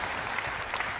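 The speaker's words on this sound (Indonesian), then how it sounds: "Boleh tepuk tangan untuk 3 anak muda." Church congregation applauding during a sermon, a steady wash of clapping from a room full of people with no voices over it.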